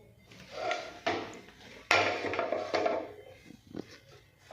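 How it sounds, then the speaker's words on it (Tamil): Cake cups set down one after another inside a pressure cooker, giving three or four close, hollow metallic knocks with short scraping between them. "அடுத்த நம்ம வச்சிருந்த கேக்கெல்லாம் எடுத்து உள்ளே வைப்போம்"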